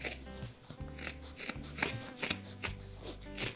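Scissors snip repeatedly through a fabric seam allowance with batting in a scrap-fabric patchwork case, giving close, crisp cuts in a steady rhythm of about a dozen quick bursts.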